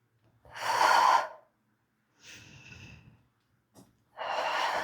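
Person doing a front squat to a box, with strong breathy exhales close to the microphone, a long first breath, a softer rasping one, then another forceful exhale after a brief gap.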